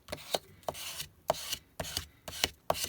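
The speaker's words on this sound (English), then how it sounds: "burnish that down." A paper card front gets burnished flat with repeated close, dry rubbing strokes, about seven short scrapes in an even rhythm, with quiet pauses between them and no talking.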